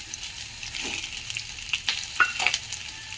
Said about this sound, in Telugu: ఆయిల్ వేసుకొని ఇగో ఉల్లిపాయలు వేయించుకుందామండి